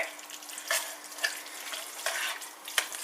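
Fettuccine sauce sizzles in a pan as it is stirred, with several short scraping, hissing strokes close up and a soft frying crackle between them.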